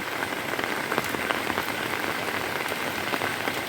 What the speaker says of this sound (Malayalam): മഴ തോർന്നിട്ടൊന്ന് ഇറങ്ങാമെന്ന് വിചാരിച്ചിട്ട് മഴ തോരുന്നേ ഇല്ല.